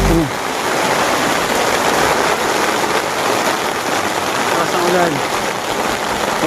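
Heavy rain pours down at a homestead in Daet, a dense, steady hiss of water close by with a brief tonal sound near the start and middle, no talking.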